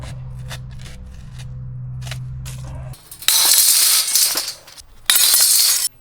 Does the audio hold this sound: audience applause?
no